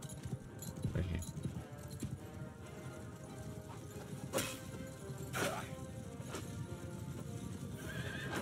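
A horse gallops with steady clip-clopping hooves in the Realm of Thrones game, broken by neighs and a few sharp whooshing hits. Faint talk runs underneath.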